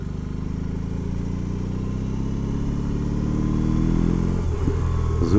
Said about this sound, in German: Habt ihr das Blubbern gerade gehört?